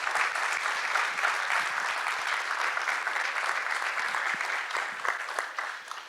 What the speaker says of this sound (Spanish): quisiera recibirles a ellos con un caluroso aplauso